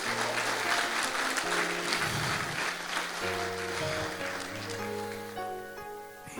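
Loud, sustained applause from a church congregation cheering for God at a New Year service, a dense steady clapping wash that carries on throughout with a little voice mixed in.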